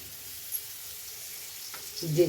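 Garlic dropped into hot oil for chicken sukka, a quiet hiss building into a louder crackling sizzle near the end of the short clip.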